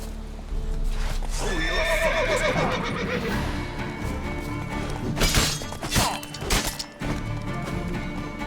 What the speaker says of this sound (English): Oh man, the horse is a problem.